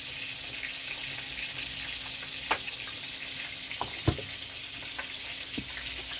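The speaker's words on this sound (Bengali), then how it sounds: "কড়াইয়ের মধ্যে আমি সর্ষের তেল দিয়ে" Mustard oil poured into a kadai as green chilli, poppy seed and mustard paste are readied for a shrimp, potato and drumstick bhapa, a soft steady hiss with a few sharp clinks and taps.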